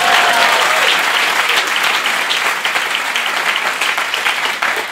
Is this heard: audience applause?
yes